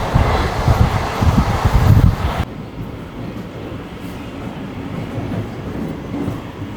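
MEMU passenger train picking up speed on rails toward 100 km/h, a steady loud rumble of wheels and carriage noise that drops abruptly to a quieter, even roar midway through.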